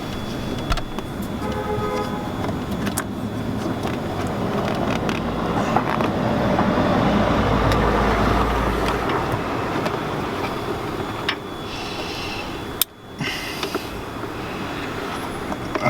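A Mini Cooper S R53 with an ABS sensor fault pulls away from a parking space and drives on, its engine and road rumble steady and close inside the cabin, with a few ticks and a sharp knock near the end.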